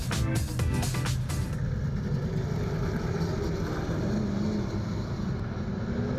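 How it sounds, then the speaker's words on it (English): Super saloon race cars at Central Motor Speedway run side by side into turns one and two, giving a loud, steady roar of engines that holds for the whole stretch with no break and no voices. "They're racing. So they go into turn 1 and 2, side by side."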